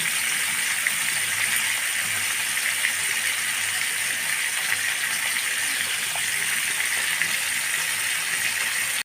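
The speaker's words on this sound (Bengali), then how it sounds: "এখন একটু সময় নিয়ে আমি উল্টিয়ে পাল্টিয়ে লাল লাল করে ভেজে নেব" Several fish fry in oil in a pan, being turned until reddish-brown, for a fish curry with potato and eggplant. A steady, even sizzling hiss runs throughout with no talking.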